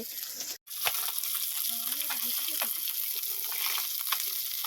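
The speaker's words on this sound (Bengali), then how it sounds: "প্রথমে দেখো বাটা মাছ ভাজা করছে" Bata fish fry in a pan with a loud, continuous sizzle and crackle close by, with occasional stirring scrapes and a brief dropout near the start.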